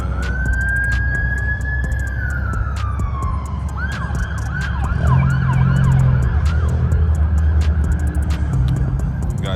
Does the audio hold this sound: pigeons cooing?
no